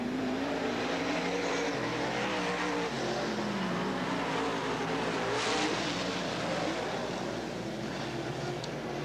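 Race cars roar steadily around the Southern Oregon Speedway oval, a loud continuous engine drone from several cars with revving and passing swells and a faint tire squeal, while a track announcer calls the race over the noise.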